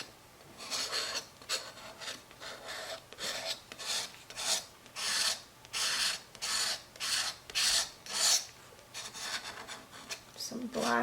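Oil pastel scraped back from a design: a dozen or so rhythmic raspy strokes, each a short rough scrape, close and moderately quiet with a faint hum underneath.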